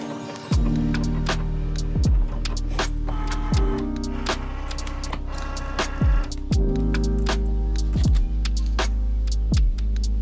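A Cricut cutting machine working through vinyl, a series of rhythmic motor whirs and repeated thudding carriage movements, close and steady with no talking.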